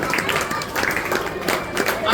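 An audience at an Independence Day patriotic poetry gathering claps for a poet, with quick, uneven hand claps scattered across the room at moderate volume.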